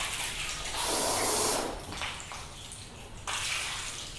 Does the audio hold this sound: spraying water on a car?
yes